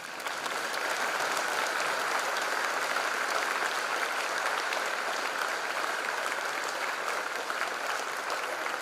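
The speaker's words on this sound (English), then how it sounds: "give a big applause to your parents" A hall audience at a college freshers' induction programme gives a sustained, even round of applause for the students' parents, dense clapping from many hands held at a constant level for several seconds without talk.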